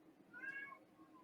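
A pet cat lets out one drawn-out, wavering yowl, faint and fairly close, with no voices over it.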